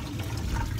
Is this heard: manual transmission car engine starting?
no